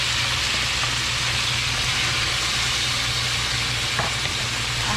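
Beef being stirred and fried with onion and garlic for Filipino beef pares, a steady close sizzle from start to finish with faint scraping from the stirring and no talk.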